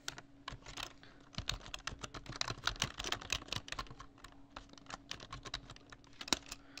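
Someone typing Python code on a computer keyboard, producing a fast, steady stream of soft, close key clicks with short pauses over a faint hum, no talk.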